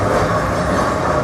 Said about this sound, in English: Massive tram.